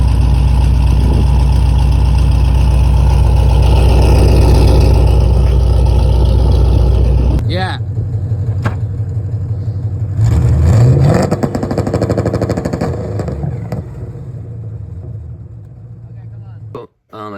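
LS V8 swapped into a Nissan 240SX idles loud and close through a straight-pipe exhaust with welded V-band joints, a deep steady rumble that drops back then swells with a brief rev, a voice speaking briefly over it.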